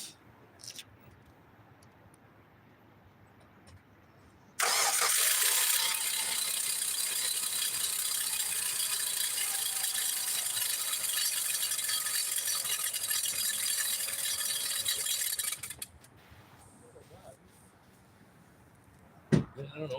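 A 2005 Hyundai Sonata 2.4L engine running with an odd noise during timing belt work, a loud steady rattling drone that starts abruptly and holds for about eleven seconds before cutting off, with quiet shop sounds around it.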